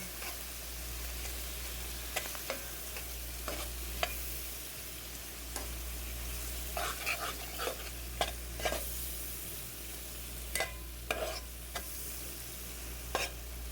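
All-purpose flour being stirred into a creamy chicken sauce in a pan, with a constant soft sizzle, a low hum underneath and scattered scraping taps of the spoon on the pan, close and with no talking.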